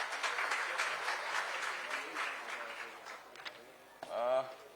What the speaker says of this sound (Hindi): मैं चाहूंगा कि तालियां बजाकर दोनों का आप स्वागत करें।